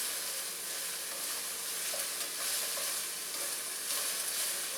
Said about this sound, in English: I just want to let these just start to soften. You can really hear it now, the heat's picking up